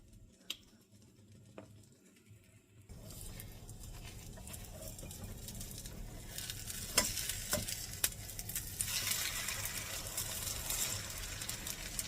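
Food frying in a pan gives a soft, close sizzle that starts quiet and grows louder partway through, with occasional sharp pops and spatters.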